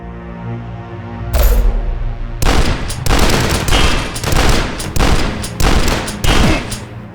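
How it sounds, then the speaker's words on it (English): Gunfire from the first-person shooter video game Dusk rings out in rapid, loud bursts, a burst of shots followed by repeated blasts in quick succession with short gaps, close and dominant with no talk. "And you'll get to shoot plenty of enemies along the way."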